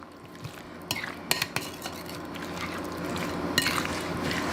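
Sliced peaches stirred in a bowl for peach pie filling: wet squelching and a few sharp spoon clinks against the dish, then continuous sloshing mixing, close and moderately loud.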